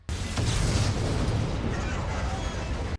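A large explosion in a Shadow the Hedgehog cutscene rumbles as a continuous, loud, low boom lasting about three seconds, with heavy bass under the whole stretch before it cuts off abruptly.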